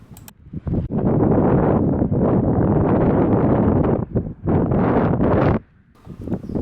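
Strong coastal wind at Walvis Bay roars into the microphone in loud, gusty buffeting bursts that rise and drop abruptly, with a short quiet lull near the end.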